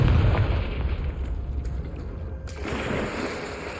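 The Confringo fire spell bursts in Hogwarts Legacy on PS5 with a heavy booming blast, a low rumbling roar that fades into a sustained whooshing tail and then a second softer surge.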